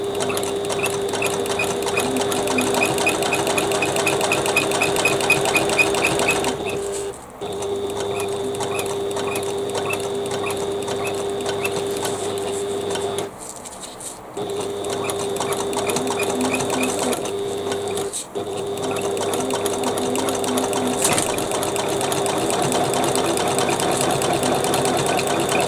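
A sewing machine stitches a bag in steady runs, its rapid mechanical whirr broken by a few brief pauses, close and loud with no talk.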